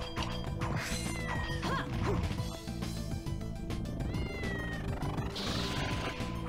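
A cat meows within Castlevania: Order of Ecclesia gameplay, short mews mixed into busy game music with crashing hits and clanks throughout.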